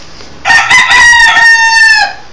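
A rooster crows loudly and close by, one long drawn-out cock-a-doodle-doo lasting under two seconds, with faint background noise before it begins.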